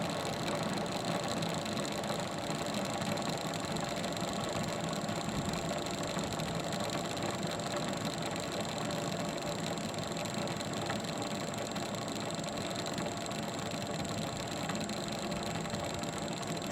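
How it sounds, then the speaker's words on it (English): A self-propelled lawn mower engine idles steadily, a constant mid-pitched mechanical drone with no changes in speed, fairly quiet and continuous throughout. "The engine's running. That's the self-propelled."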